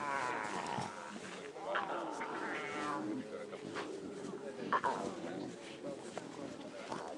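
Young wild animals growling on a safari drive, a series of rough, rising growls and yowls close by, with people talking over them throughout.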